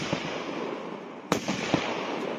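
Continuous crackling roar of a Brocade Night firework battery by Salon Roger firing 25 shots of 30 mm, with a sharp bang partway through and a few more pops over the dense, hissing fizz.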